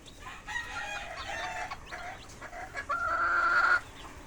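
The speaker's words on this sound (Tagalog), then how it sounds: "Ito naman yung mga sisiw na bagong banding na inalpasan sa breeding range." Chickens and young chicks in a gamefarm breeding range, with loud close clucking and cackling calls and a longer drawn-out call near the end, no talk.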